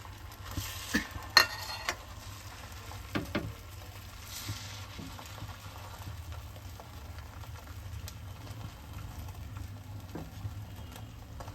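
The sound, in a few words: egg yolk frying in a hot pan for an omelette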